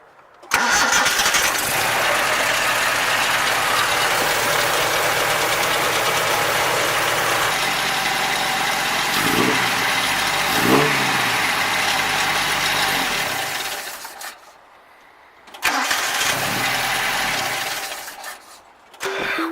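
A Nissan 720 truck engine cranks and catches after new spark plugs and wires are fitted, then runs at a loud, steady idle close by, dips and cuts out, and restarts.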